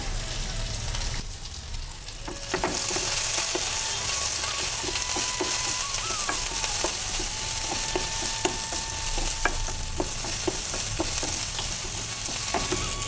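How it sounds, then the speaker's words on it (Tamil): Finely chopped ginger sautéing in a pan for chutney, a dense continuous sizzle with occasional stirring scrapes and small pops, close and steady with no talking. "இப்போ நல்லா வதங்கி வருது"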